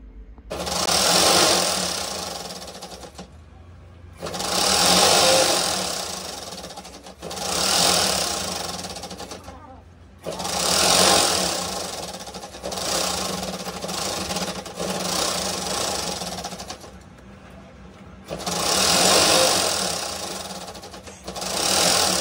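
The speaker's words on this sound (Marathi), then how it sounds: "आता फक्त ऑइलिंग विलिंग करून आता गोधडी शिवायला चालू करणार आहे." A sewing machine stitches a godhadi quilt made from old saris, running in loud, close bursts of rapid rhythmic chatter several seconds long, separated by brief pauses.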